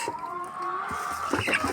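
Newly delivered hens and small young roosters cluck in soft, wavering calls at close range, with a few short brighter squawks near the end over a low background hum.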